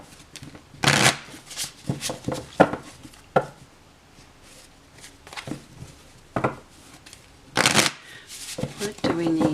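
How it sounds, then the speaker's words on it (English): Repeated bursts of tarot cards being shuffled, crisp riffling flurries separated by pauses, with a voice speaking quietly in between. "Let's give these a bit of a shuffle."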